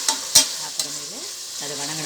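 Finely chopped medium-sized onions frying in a pan with fennel seeds for mutton biryani: a steady close sizzle broken by a few sharp knocks of a spoon stirring against the pan.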